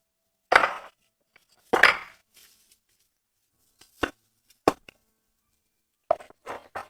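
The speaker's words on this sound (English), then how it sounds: "He first carves out a neat vertical dirt wall." A tool scrapes and cuts into a dirt slope to carve a vertical wall, heard as a handful of separate close scraping strikes spaced out with quiet gaps between them.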